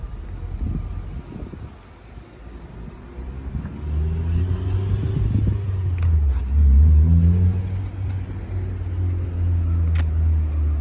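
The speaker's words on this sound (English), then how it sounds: "Here we have a DarkHorse 2025 that I installed the ESS blower on." Supercharged 2025 Ford Mustang Dark Horse fitted with an ESS blower, its V8 rising into a deep rumbling rev with a whining sweep, then settling, heard nearby with some wind buffeting.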